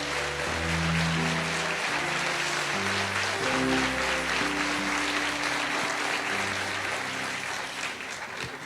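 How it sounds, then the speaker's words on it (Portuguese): An audience at a live religious gathering applauds warmly, with dense, sustained clapping over soft background music throughout, loud and continuous without pause. "Uma salva de palmas, mas muito carinhosa para esse povo que veio de lá."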